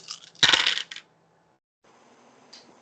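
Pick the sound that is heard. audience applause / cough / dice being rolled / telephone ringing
dice being rolled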